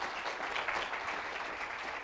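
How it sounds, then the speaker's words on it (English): A conference audience applauds a Google speaker at a franchise technology event in Denver, an even, continuous wash of clapping throughout at moderate loudness. "let's have a round of applause for Cece and the great information of YouTube"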